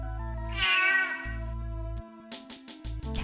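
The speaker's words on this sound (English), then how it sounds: "Cat noises." A synthesized cat meows in the video game Snatcher, one drawn-out mewing cry over looping low game music with electronic tones and blips.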